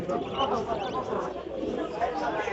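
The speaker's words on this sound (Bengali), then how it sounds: "অনেক গোল্লা কবুতর এখানে আছে" Gola pigeons coo and murmur in a dense, continuous flock chorus close by at the Savar bird market, with general bustle and voices mixed into the background.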